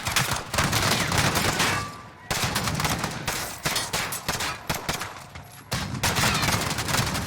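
Dense automatic gunfire fills a Call of Duty: Modern Warfare match, loud and close, in rapid bursts with only brief pauses between volleys.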